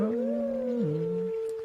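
Wolf Link, the wolf form of Link in The Legend of Zelda: Twilight Princess HD, lets out a single sustained tonal howl that rises, holds, then dips in pitch, heard loud and alone.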